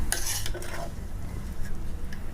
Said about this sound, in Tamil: நம்ம அப்படியே பொறுமையாக கிளறி விடணும்